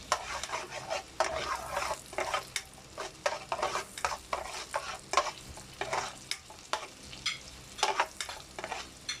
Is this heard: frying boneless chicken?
yes